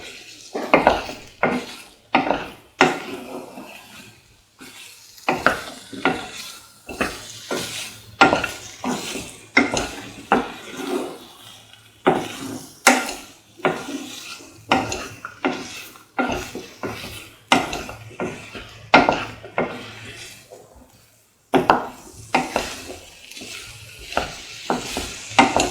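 Mango plantain stew with salt and spices is stirred in a pot, giving a long run of rhythmic scraping strokes, roughly one every second, with clinks of the utensil against the pot and a faint sizzle beneath.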